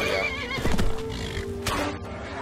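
A horse in the Skyrim video game gives a loud, close whinny followed by snorting and a few hoof clops, with no talking.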